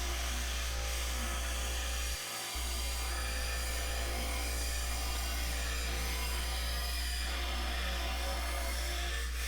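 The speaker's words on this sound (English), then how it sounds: "Here I am using my trusty air hammer again." An air hammer runs in a continuous loud, buzzing rattle, close and steady, with one brief pause near the start, while building a compact tractor stump bucket.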